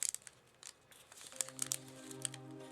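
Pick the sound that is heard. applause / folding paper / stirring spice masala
folding paper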